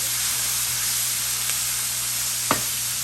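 Sausages cook in hot oil in a pan, giving a continuous, even sizzle and hiss, broken once by a brief sharp click near the end. No one speaks.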